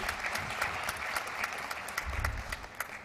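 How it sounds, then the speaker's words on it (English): A room of people applauds steadily at a technology conference, a dense patter of clapping hands with no voices over it. "A round of applause for her."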